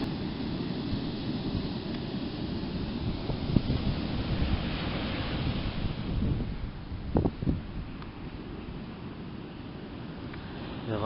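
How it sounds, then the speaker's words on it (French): Waves roll and break steadily on a black olivine sand beach on Réunion Island, a continuous broad surf roar with wind buffeting the microphone and a few louder crashes. "Avec des putains de belles vagues."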